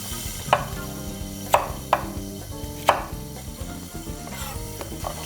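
Knife chopping through an onion, cut in half on a cutting board while preparing salsa, giving four sharp, close thuds at uneven intervals and then softer taps, with no talking.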